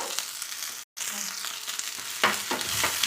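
Chopped shallots and garlic sautéing in hot oil in a pan for a tempering, a steady close sizzle and crackle with occasional stirring scrapes, one brief dropout midway.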